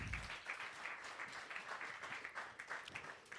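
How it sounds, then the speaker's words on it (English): An audience applauds at a media launch event, brisk continuous clapping heard at moderate distance and fairly faint. "A round of applause for that."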